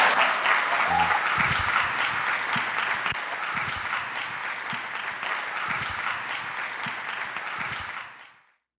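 A church congregation claps steadily through a Sunday-morning service in Portuguese, a dense, even wash of applause that holds for about eight seconds before cutting off.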